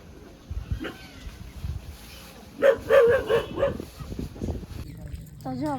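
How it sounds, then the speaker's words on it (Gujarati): A dog near a house in rainy weather gives a few short barks and yips mixed with whimpers, heard close by over people talking. "આ ઓલા કૂતરાને બીવડાવે જો."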